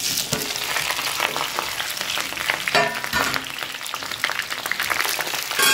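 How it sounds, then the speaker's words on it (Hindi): Green chillies going into hot oil in a home kitchen, giving a steady, dense sizzle and crackle of frying that continues throughout with small bursts of spitting. "तो अभी मैंने तेल गर्म होने के लिए छोड़ दिया है, तो अभी इसमें डाल देंगे हरी मिर्च।"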